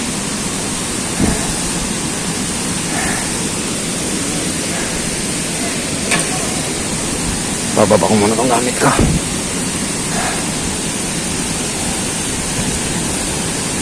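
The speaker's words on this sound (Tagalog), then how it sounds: "dinig na yung lagaslas ng tubig. Ito na yung tinatawag na Dipalyon Falls" Dipalyon Falls in General Nakar, Quezon, gives a steady, dense roar of rushing water that fills the whole stretch evenly, with someone speaking briefly over it.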